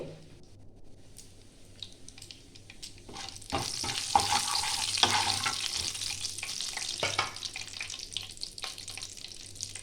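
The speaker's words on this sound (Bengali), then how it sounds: "মধ্যে দিয়ে দেবো একটা শুকনো লঙ্কা, তেজপাতা, একটু জিরে," Dried red chilli, bay leaf and cumin seeds tempering in hot oil for a vegetarian broccoli curry, a soft sizzle that swells into a steady, crackling fry midway and holds, with no voices.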